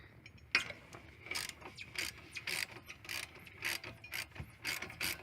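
A ratchet wrench loosens the brake caliper bolts on a 2001–2007 Ford Escape, its pawl clicking in quick repeated bursts of strokes, close and crisp, with a sharp knock at the start.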